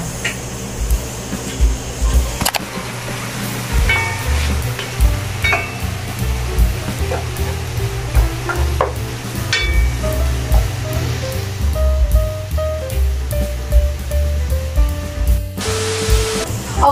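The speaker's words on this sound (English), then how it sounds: "Okay, so we will fry the bacon until it's light brown." Bacon frying in a pan until light brown, a continuous hissing sizzle with scattered pops and utensil clinks, faint background sounds near the end.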